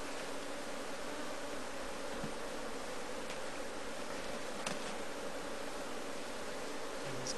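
Honey bees being worked in a Kenya top bar hive in Nakuru, Kenya, give off a dense, continuous buzzing hum that stays steady throughout, with a few faint rustles and no talking.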